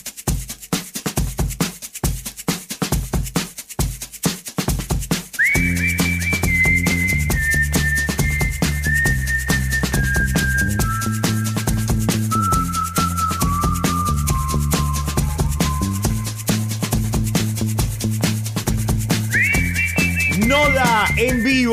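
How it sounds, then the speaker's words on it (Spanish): A clear whistled melody rises over band music in a radio studio, stepping down through a sequence of sustained notes before climbing again near the end. "No te puedo hablar porque estoy silbando."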